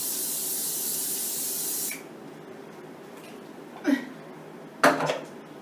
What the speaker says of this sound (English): let's grab some spray oil.